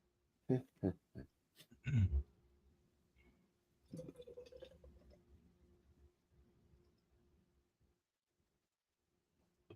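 A dry-hopped lager is poured into a glass in a few quick glugging splashes, followed by a quieter stretch of soft fizzing that fades away.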